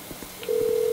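Phone dialing in GTA 5 to call a taxi: a couple of faint soft key blips, then a single steady, loud dial-style tone that holds to the end.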